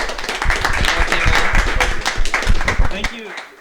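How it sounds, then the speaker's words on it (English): A small group at a casual home bake-off claps together, a few pairs of hands giving brisk irregular claps close by, with voices and laughter mixed in, before tapering off. "A round of applause, please."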